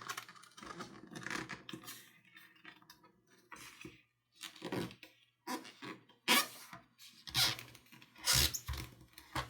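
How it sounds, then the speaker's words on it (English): Glossy coated paper squeaking and scratching in short bursts as it is creased and folded into a paper airplane wing, close and fairly quiet, with no talk. "That coating on the paper makes it really want to squeak as you fold."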